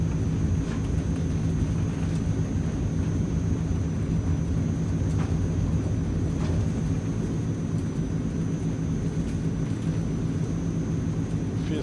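A Transall C160 military transport takes off in Microsoft Flight Simulator, its engines making a steady, loud, broadband roar and rumble that holds throughout with no voices.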